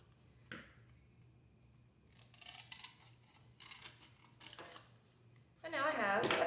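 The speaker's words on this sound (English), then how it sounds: "So I'm gonna cut that fourth out." Scissors cutting through a foam printmaking plate in several separate bursts of crisp snipping and crinkling, close and fairly quiet, with a louder rustle of handling at the end.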